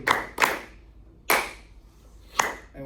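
Students in a music skills class clap a rhythm together: four sharp group claps with uneven gaps between them, close and fairly loud, with no talking.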